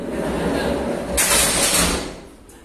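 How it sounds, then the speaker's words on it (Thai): A waste compactor machine's door slides shut with a broad rushing, rumbling sweep over steady machine hum, fairly close and moderately loud, lasting about a second before fading back to the background drone. "อันนี้เครื่องจะสั่งให้เราปิดประตูนะครับ"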